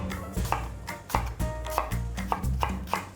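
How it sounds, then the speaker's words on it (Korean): Knife julienning a skin-on apple on a cutting board, a steady run of sharp chopping strokes at close range, with no talk. "20g 준비한 사과는 껍질째 가늘게 채 썰어 줄 건데요"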